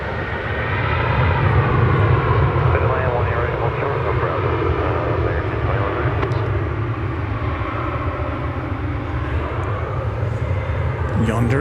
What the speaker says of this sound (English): just about to arrive is American Flight 2651 from Los Cabos in Mexico. It's an Airbus A321.